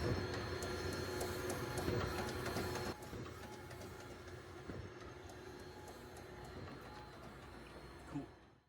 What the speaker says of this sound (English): This is the large image currently printing, a night shot of downtown Nashville.